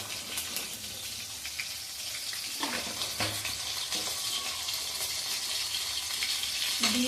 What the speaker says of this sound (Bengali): মশলাটা প্রায় কষে এসছে হালকা একটু জল দিয়ে আর একটু কষে নেবো